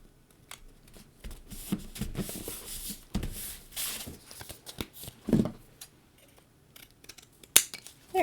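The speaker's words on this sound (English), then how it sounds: "I am going to just go ahead and trim off the top of our banner there" Scissors trimming the top off a paper card banner, with a series of crisp snips and rustling paper handling, close and fairly quiet, with one sharper snip near the end.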